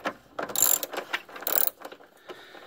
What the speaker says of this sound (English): all you need to do is loosen it up with the ratchet, and you can do the rest of it by hand